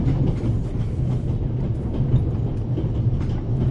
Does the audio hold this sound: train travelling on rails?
yes